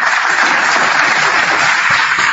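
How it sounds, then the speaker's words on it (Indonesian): An audience at a heated debate event bursts into steady, dense applause, a loud continuous wash of clapping with no pauses. "Tepuk tangan untuk itu."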